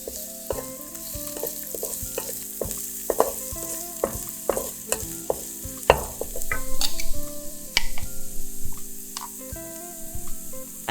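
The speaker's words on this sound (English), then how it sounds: "Sauté the onion on low heat until it caramelizes. Then add the grated ginger." Onion and grated ginger sautéing on low heat in a pan, a steady close sizzle broken by frequent scraping stirs and sharp utensil clicks, with no voices.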